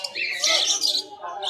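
Parakeets chirp and squawk in a quick, bright burst at a pet market, close by, with faint chatter underneath.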